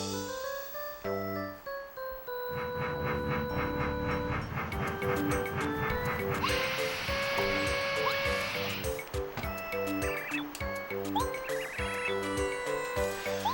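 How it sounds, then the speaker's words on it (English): A train ride in the Paper Mario video game gives a rhythmic chugging pulse with chiming, tuneful game music layered over it, sustained and fairly loud throughout. "So that was a lovely train ride"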